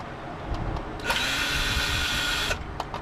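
A power drill whirs steadily for about a second and a half while backing screws out of a Honeywell space heater, flanked by faint clicks and handling noises.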